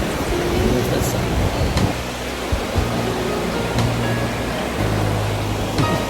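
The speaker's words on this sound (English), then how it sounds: "we're here hiking the St. Anne's River and the St. Anne's Waterfall." Rushing water from the St. Anne waterfall and river fills the scene with a steady, broad roar that holds constant throughout, with faint low rumbles beneath it.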